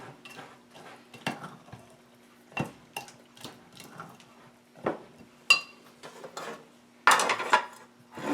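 Muffin batter is folded in a bowl, with a spoon scraping and knocking against the sides in scattered soft clinks and thuds, fairly quiet with no talking.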